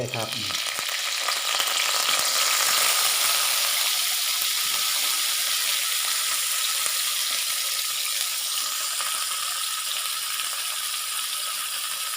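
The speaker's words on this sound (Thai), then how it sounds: "น้ำมันได้ที่แล้วครับพี่น้อง ใส่ลงไป" Khulu fish wrapped in banana leaf frying in hot oil: a loud, steady sizzle and crackle that starts with a burst as the fish goes in, then carries on evenly and alone for about twelve seconds.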